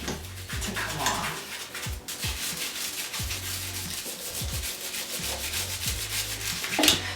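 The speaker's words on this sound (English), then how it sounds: "It's easier to just use a scrub brush and get into these areas." A brush scrubs grease off an old KitchenAid stand mixer, steady close bristle scrubbing with rhythmic back-and-forth strokes and a few faint knocks, no voices.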